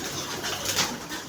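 Racing pigeons coo and rustle in a loft, a soft continuous murmur of birds close by, with no voices over it.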